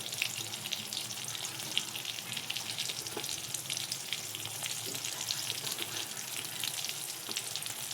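Tomatoes with red chilli powder being cooked in oil sizzle steadily in a pan, a continuous close hiss with faint stirring, no voices.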